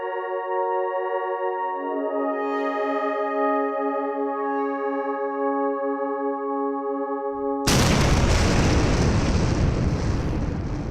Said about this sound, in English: That was the sound of my mind exploding.